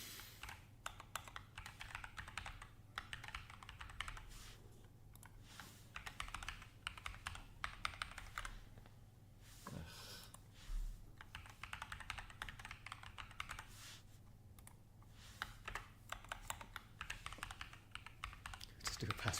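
Rapid, uneven clatter of typing on a computer keyboard during a chess stream, continuous bursts of key taps close up and fairly quiet.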